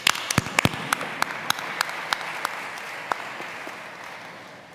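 An audience at a health conference in Genoa claps for the keynote speakers: a burst of applause that quickly thins to scattered, separate hand claps fading away.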